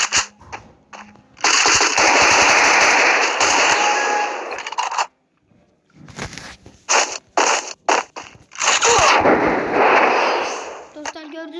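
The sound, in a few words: Scar-L rifle gunfire in a video game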